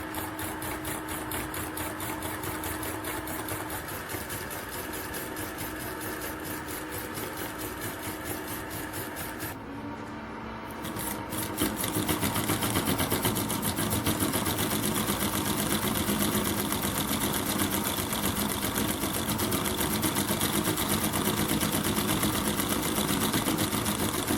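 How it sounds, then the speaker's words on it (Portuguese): A homemade V1 engine-style magnetic solenoid motor runs with a steady, close mechanical buzz and rattle. It grows slightly louder and fuller about halfway through, then keeps a constant, even drone with no talking. "Tá aí o nosso motor funcionando, um motor muito legal de se fazer, um motor muito divertido"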